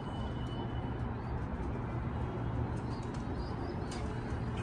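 Pigeons coo and small birds whistle and chirp outdoors in a steady, dense chorus, with the cooing low and continuous and brief higher calls scattered over a constant background hum.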